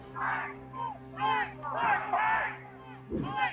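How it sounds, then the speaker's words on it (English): A crowd of protesters shouts and chants at a street intersection on Nicollet, rising and falling waves of raised voices heard from a short distance. "You hear that crowd that is gathered here on Nicolette."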